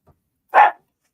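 One short, fairly loud bark from a nearby dog, preceded by a faint tiny click, then silence.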